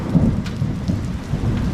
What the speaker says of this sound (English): There has been some crazy thunderstorms.